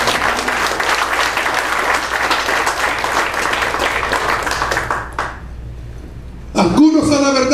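Loud, sustained applause from a church congregation fills the room for about five seconds, then drops off sharply into quiet before a voice comes in near the end.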